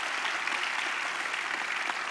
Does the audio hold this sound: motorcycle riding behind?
no